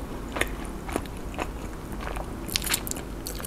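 A cheese corn dog is bitten into up close, giving several crisp crunching bites and crackles of the fried batter in an irregular rhythm.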